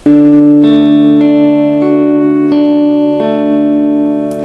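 A sequence of sustained, ringing guitar notes picked one after another, each new note overlapping the last, steady and close with no talking.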